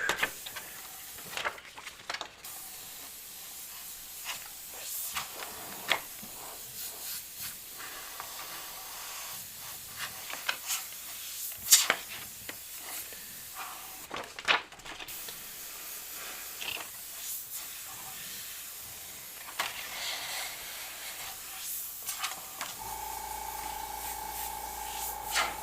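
An airbrush lays down a soft smoke effect through a stencil, giving faint, intermittent bursts of airy hissing that stop and start in short passes, with no talk.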